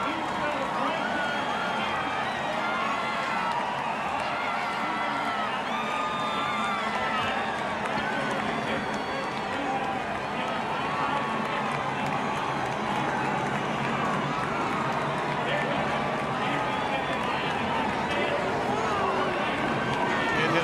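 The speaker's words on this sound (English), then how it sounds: "Been a boisterous crowd." Boisterous NASCAR race crowd cheering and roaring continuously, a dense, loud wash of massed voices with whoops and shouts rising out of it throughout, no quiet gaps.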